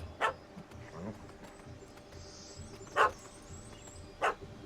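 Dog barking in The Witcher 3, Hearts of Stone: three short, sharp barks spaced apart at roughly mid distance over a quiet game ambience.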